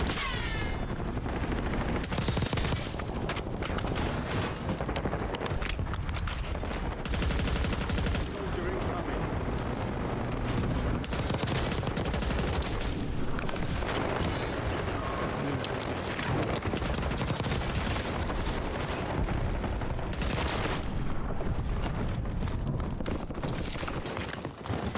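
Rapid, dense gunfire rattles almost nonstop in the Warzone video game, with bursts and single shots layered over the busy in-game din, while a voice talks over parts of it.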